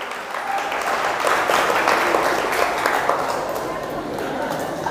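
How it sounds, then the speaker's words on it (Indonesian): Dense applause from a seated audience at an Islamic boarding school talk about terrorism, drugs and bullying, steady clapping filling the hall for several seconds at close range with a faint voice underneath. "Tepuk tangan, terima kasih."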